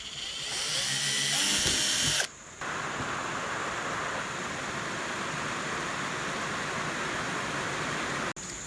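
A power drill with a 3.2 mm bit boring a hole in a workpiece for a large compass, loud whirring for about two seconds, then a steady quieter hum before stopping.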